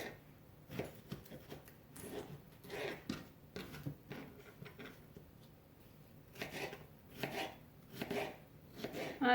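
A knife chops potatoes on a cutting board in a series of irregular, soft thuds and scrapes, close by and fairly quiet, with short pauses between bursts of cuts.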